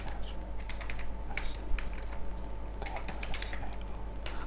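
Someone types on a computer keyboard at a steady, close pace, entering a command into an IBM AS400 terminal, with a low hum underneath.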